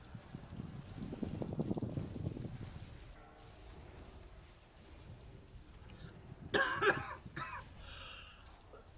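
A person coughs several times in a short burst partway through, sharp and close against a quiet background with faint earlier rumble, during a heroic Argus raid session.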